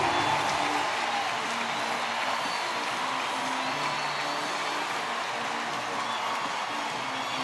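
A baseball stadium crowd at a Padres versus Cardinals game cheers after a run scores, a steady, distant roar of voices with no break, fairly faint throughout.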